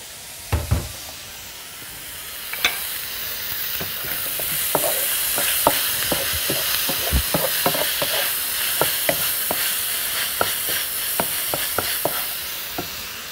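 Minced garlic, onion and colored peppers sauté in a pan with a constant soft sizzle, while a spatula scrapes and taps the pan in scattered clicks throughout.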